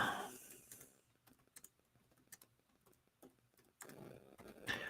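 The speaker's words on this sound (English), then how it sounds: "I'm going to type it out." Quiet keystrokes tap out on a computer keyboard in short irregular bursts, close but faint, with brief louder room noise at the start and end and no talking.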